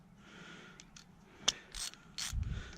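A ratchet socket wrench turns on a bolt of a Craftsman push mower during a repair, giving a few quiet mechanical clicks and ratcheting bursts with brief pauses between them.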